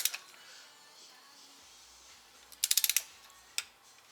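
A torque wrench tightens a bolt on a 2012 Passat CC, a quick run of close, crisp ratcheting clicks followed a moment later by a single sharp click, in an otherwise quiet space.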